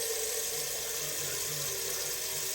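Kitchen tap running water to fill a pot for pasta, a steady soft rushing hiss throughout with no talking.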